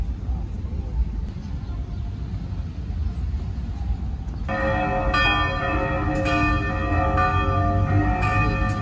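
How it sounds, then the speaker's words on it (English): Church bells in Belém, Brazil ring out by the dock, starting partway through with layered, sustained tolling over a low rumble and general crowd and traffic noise. "Made it just in time to hear the church bells ring."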